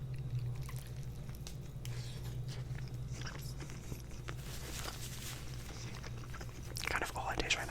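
Close, crunchy chewing and biting of an egg-heavy breakfast sandwich, steady soft mouth sounds throughout with a louder burst near the end and faint whispery breaths.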